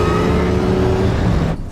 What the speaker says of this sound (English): The roar of the car just adds a little bit more too.